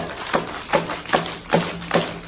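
Sharp slap strokes on a pandero frame drum, struck like a hand clap, five evenly spaced hits each with a short ringing tail, close and fairly loud with no voices.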